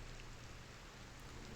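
Steady rain from the video game Discworld Noir, a continuous even hiss of falling water with no talk, constant in level throughout.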